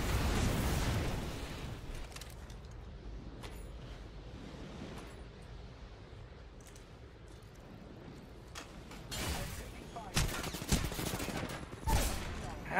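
Gunfire and explosions from a firefight in the video game Apex Legends, including a charge rifle. Loud booming blasts open the passage, a rumbling mix carries through the middle, and sharp shots burst out near the end. A voice talks faintly underneath.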